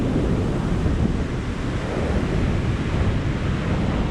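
Ocean surf on a Portuguese west coast beach washes in a continuous broad roar, mixed with wind buffeting the microphone, no voices.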